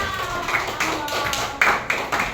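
Classroom of students clapping for a group of pupils, bursts of hand claps coming in short uneven waves with a teacher's voice around them.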